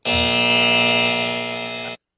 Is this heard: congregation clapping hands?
no